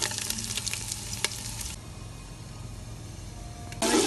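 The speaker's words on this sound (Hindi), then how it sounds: "अब जो चिकन हमने 1 घंटे के लिए मैरिनेट करके रखी थी, अब इसको हम फ्राई करेंगे।" Marinated chicken pieces with finely chopped ginger frying in a pan, a steady close sizzle with a few stirring knocks early on, settling quieter midway before a louder burst of spitting at the very end.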